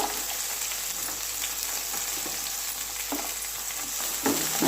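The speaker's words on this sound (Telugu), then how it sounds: "అది బాగా ఫ్రై అవ్వనివ్వాలి." Green peas fry in a pan for suji upma, giving a steady close sizzle with faint stirring scrapes throughout and no talking.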